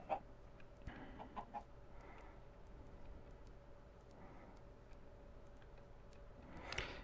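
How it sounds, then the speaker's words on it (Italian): Minecraft chickens cluck softly in short, scattered calls over a quiet, steady background hum, with no talking. "devi vedere che ti seguono le galline"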